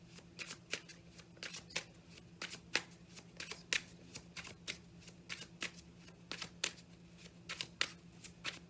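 Tarot cards being shuffled by hand, a steady run of close, crisp riffling bursts repeating in an uneven rhythm under a low background hum, with no talking.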